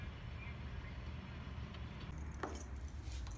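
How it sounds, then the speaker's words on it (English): A bunch of keys dropped near a city sidewalk and elevator shaft, giving a brief metallic jangle and clink against a loud, steady street rumble. "This is where I drop my keys."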